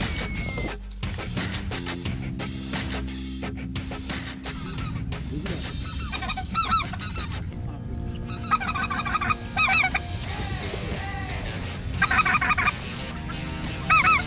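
Speckle-bellied geese honk repeatedly during an Arkansas hunt, a busy mix of loud two-note calls and clucks, some close and some farther off, with bursts of honking throughout.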